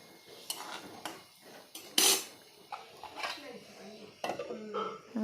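Metal lid set onto a cooking pot of boiling garlic and ginger, a sharp clatter near the two-second mark amid other pot and utensil clinks, with someone talking throughout.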